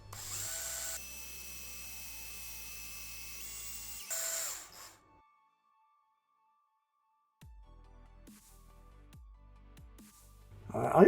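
A cordless drill whirs steadily at close range while boring out a 1968 Matchbox Ford Cortina diecast model, running for about four seconds before stopping, with quieter handling noises after a pause and a sharp clatter at the end.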